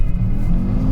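A 1994 Audi S4 quattro pulls hard after a clutch drop, its engine giving a loud, steady low rumble that holds through the moment with no voices over it.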